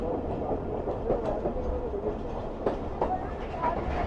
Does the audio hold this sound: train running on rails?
yes